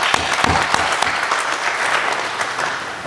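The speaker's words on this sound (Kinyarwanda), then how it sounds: "Namwe mwiyongera amashyi." Audience applause at a Burundian foreign affairs ministry address, steady dense clapping from a crowd filling the whole stretch without any talk.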